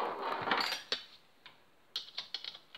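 A part is tightened down while fitting electronic ignition: a close metallic rattle, then a few sharp ratchet-like clicks and taps spaced over a couple of seconds, with no talk.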